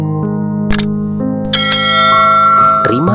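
A notification bell sound effect gives a few bright, ringing chimes that overlap and decay, loud and close with a soft musical bed underneath and no talk.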